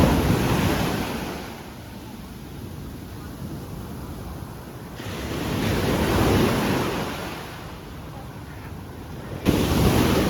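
Surf rolls onto the beach at Chaweng, Koh Samui, beside a small resort, a steady broadband wash that swells and ebbs in slow waves, with wind noise on the microphone.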